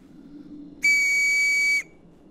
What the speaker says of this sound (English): I'll blow this whistle